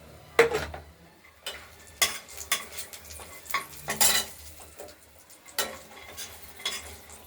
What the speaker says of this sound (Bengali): তেলটা গরম হওয়ার সঙ্গে সঙ্গে আমরা বড়িগুলোকে হালকা ভেজে নেব।